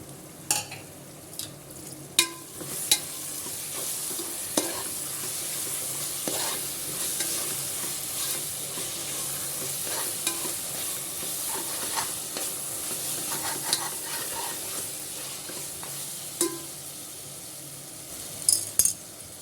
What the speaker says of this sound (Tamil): இஞ்சி பூண்டு பேஸ்ட்டு போட்டு நல்லா பச்சை வாசனை போகிற அளவுக்கு நல்லா வதக்கிட்டோம்